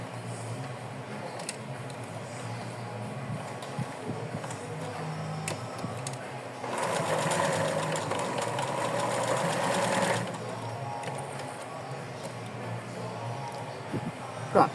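A domestic sewing machine stitches an elastic band onto small doll clothes, running in a steady fast whir for about three seconds in the middle, with quieter handling and rustling before and after.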